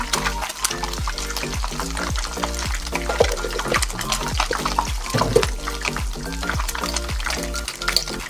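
Cumin seeds sizzle in hot oil for a chicken curry, a steady crackling fry with repeated rhythmic scraping strokes of a spoon or spatula stirring in the pan.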